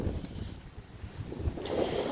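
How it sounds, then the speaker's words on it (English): Strong wind gusting outdoors, buffeting the microphone with low rumbling noise and brief whooshes, moderately loud with no talk. "It is so windy out here."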